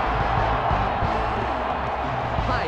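Stadium crowd in the football video game ESPN NFL 2K5, Chiefs versus Eagles at Lincoln Financial Field, a loud continuous roar of tailgating fans cheering with faint scattered whoops.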